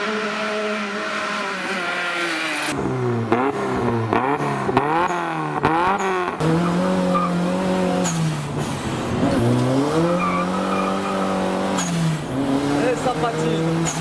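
A trike's engine revs hard in repeated rising and falling sweeps while its wheels spin and skid, loud and continuous, with voices faintly mixed in.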